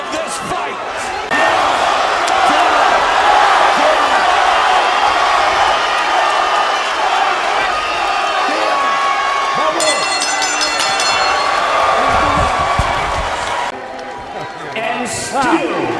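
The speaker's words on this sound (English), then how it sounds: "It's been a long time since we had a crowd like this" Loud, dense crowd roar fills a boxing arena without letup, swelling with cheers and a brief burst of applause-like clatter near the end, while talk runs faintly underneath.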